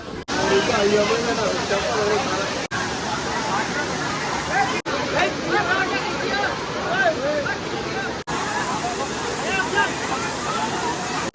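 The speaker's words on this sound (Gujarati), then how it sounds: "ઉપરથી ધડાધડ પાણી પણ પડે છે" Water roars down continuously at Hathni Mata Waterfall near Jambughoda in Panchmahal, Gujarat, a dense, unbroken wash of sound close by, with a crowd's babble mixed faintly underneath.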